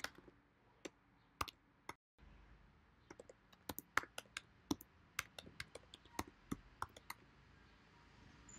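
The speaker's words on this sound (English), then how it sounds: "I'm going to type my email address." Fast, uneven clicks of typing on a computer keyboard while entering an email address, close and fairly quiet, with a brief pause partway through before the keystrokes resume.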